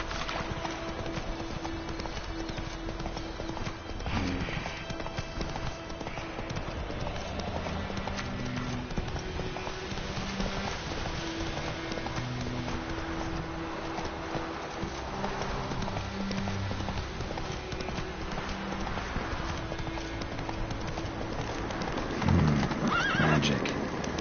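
Horse in a PS4 video game whinnying and neighing while hooves clip-clop at a gallop, steady and close throughout, over a continuous game soundscape with no talking.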